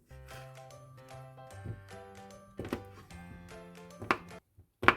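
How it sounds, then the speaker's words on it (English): A knife cutting boiled potatoes on a board, several soft irregular chopping thunks at close range with a few louder knocks and brief quiet gaps, no talking. "So I'm cutting, these are all boiled potatoes."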